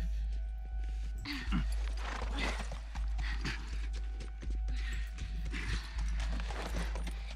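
Horse hooves clip-clopping in The Last of Us game, a steady rhythmic beat close by over a constant low engine-like hum, with music-like tonal sweeps and no talk.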